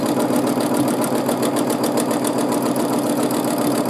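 A sewing machine runs in a steady, continuous whir while free-motion quilting an all-over soap bubble pattern across a quilt, with a fast even stitching pulse and no pauses.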